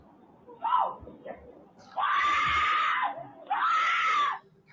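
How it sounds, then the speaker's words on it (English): A woman screams in her garage: a short cry, then two long, loud, sustained shrieks, each held for about a second or more, close and otherwise unaccompanied. "Her screams are enough to make your heart stop."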